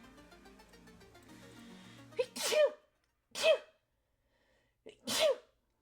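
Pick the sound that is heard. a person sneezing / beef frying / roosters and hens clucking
a person sneezing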